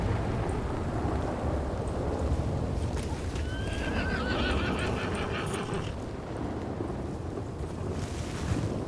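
A horse whinnies in the Red Dead Redemption 2 roleplay game (RedM), a rising and falling neigh over steady wind and faint hoof clatter outdoors, with no voices.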